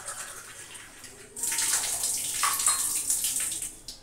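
Tap water runs steadily into a vessel as water is measured out for tea in a home kitchen, a hissing pour that starts abruptly and keeps flowing, close by.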